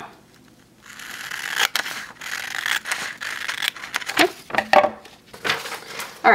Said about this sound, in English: we're going to take our scissors and cut your little triangle out.